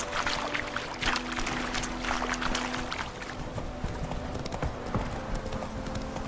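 Steady clip-clop of a horse's hooves, Roach the mount in The Witcher 3: Wild Hunt, trotting at a moderate distance over a busy ambient game backdrop with faint stray voices.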